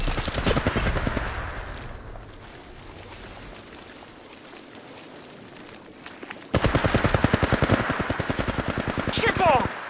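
Rapid automatic gunfire from Apex Legends Mobile battle royale gameplay, with close, loud bursts at the start and a dense sustained volley in the last few seconds, separated by a quieter stretch of ambient game noise.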